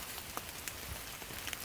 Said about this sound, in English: It's like 40-some degrees right now and raining.